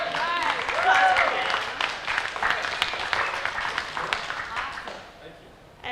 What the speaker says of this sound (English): I'm gonna have another hand of applause for